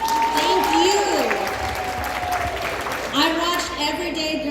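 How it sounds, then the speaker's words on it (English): Audience clapping at a community candidates' event, a sustained spatter of hands across the room that carries under and around a speaking voice throughout. "Let's give you a round of applause."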